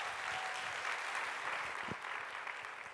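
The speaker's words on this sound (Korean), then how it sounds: "박수!" A room of parents and teachers at a church camp workshop claps steadily and fairly evenly for three seconds, a full, dense patter with no voices over it.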